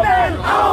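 Crowd of protesting students at a university rally chanting slogans together, a loud, dense mass of voices in sustained, rhythmic call.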